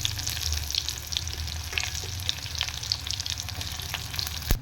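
Bay leaf, garam masala and onion fry in oil with sugar for Bengali-style ghugni, a loud continuous close sizzle with faint crackles and occasional stirring.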